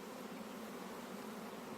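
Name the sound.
buzzing of thousands of bees at ranch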